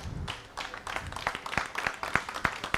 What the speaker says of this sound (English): I actually thought we were going to make that applause a little more rousing.